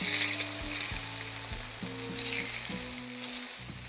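Chicken pieces frying in a pan for Tuscan chicken, a steady close sizzle and crackle with soft bursts, alongside faint tonal hum, no talking.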